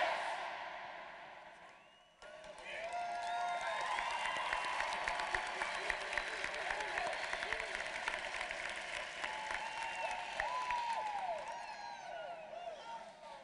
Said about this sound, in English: The senior class of 2016 would like to applaud you with a very loud